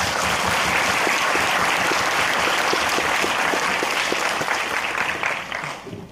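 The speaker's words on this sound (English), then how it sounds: "Please give a big applause for Dr." An audience at a university talk applauds Dr. Jane with full, steady clapping that holds for several seconds and then tapers off toward the end.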